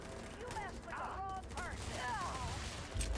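Bursts of gunfire in the video game Starfield, several quick shots with whooshing, pitch-sweeping effects over a low rumble, fairly faint overall.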